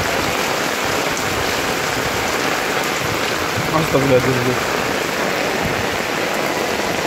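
Heavy rain pours steadily in the small town of Ambulu, a dense, constant hiss close by, with a brief spoken exclamation partway through.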